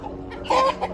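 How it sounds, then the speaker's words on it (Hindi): A hen gives a short, close cluck, a brief nasal squawk standing out over a steady background hum. "ये यार मुर्गी लगती है ना बिल्कुल मुर्गी है"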